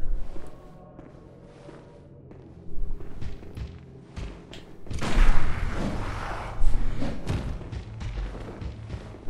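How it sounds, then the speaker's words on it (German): Gunfire in the video game Bloodborne: several heavy booming shots and thuds, fairly loud, scattered over the clip among game noise and footsteps. "Oh, so ein paar Schüsse."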